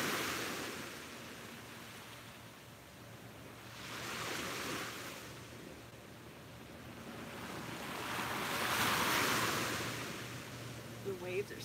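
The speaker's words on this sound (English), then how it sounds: "The waves are so relaxing this morning." Ocean waves surge and recede in slow swells, building to a louder crash near the end, with wind rushing across the microphone.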